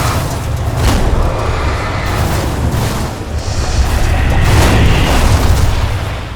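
Flares firing in Alan Wake Remastered come across as a loud, sustained roar of booming bursts with a steady low rumble throughout, no voices on top.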